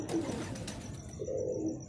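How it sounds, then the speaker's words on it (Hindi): A pair of quail birds, grade 35, give a couple of short, low calls that are faint and set against steady background noise. "आज आपके लिए माशाल्लाह एक पेयर लेके आया हूँ आप दोस्तों के शौक़ के लिए, बटेरा 35 वाला"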